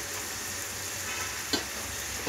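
Ground spices and coconut powder being stirred in a hot pan for potato masala curry, a steady close sizzle with a couple of soft scrapes from the spoon.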